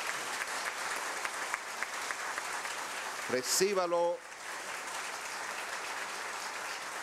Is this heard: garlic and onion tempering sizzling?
no